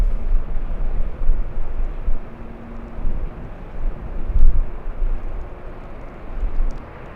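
Jet airliner noise at LAX runway 24 left, a steady low broadband roar heard from a distance through heavy wind buffeting on the microphone.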